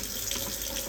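Water runs steadily from a kitchen tap to feed a sourdough starter, a short, even stream close by with no voices.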